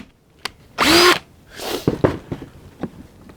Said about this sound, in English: then I'm going to drill these holes in the wood.